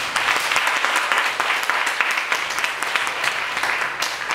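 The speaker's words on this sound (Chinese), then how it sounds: "我们掌声欢迎我们的学姐" A student audience gives steady, dense applause to welcome a former club president as speaker. The clapping is continuous and fairly close, with individual sharp claps standing out from the mass.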